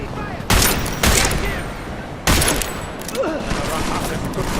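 Gunfire in the video game Deus Ex: Mankind Divided: a few loud, sharp bursts of shots over a noisy battle background.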